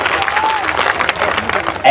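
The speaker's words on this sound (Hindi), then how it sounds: "ऐसी तालियां आपने बिहार का सम्मान में बजा दिया" Audience applause at a mushaira poetry gathering in Kishanganj, honouring Bihar: a steady wash of many hands clapping, fairly close and sustained for the whole moment, with a voice speaking over it.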